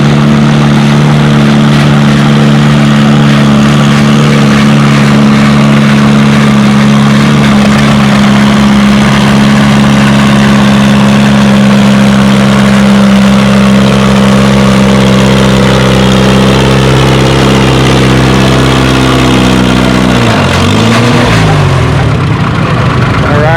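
A pulling tractor at a tractor pull event, 4,000-pound 6 mph class, roars loudly and steadily for about twenty seconds with a sustained engine drone, then drops off abruptly near the end.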